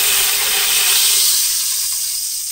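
Beef pot roast searing in a pan gives a steady, loud hiss of frying with no talk over it.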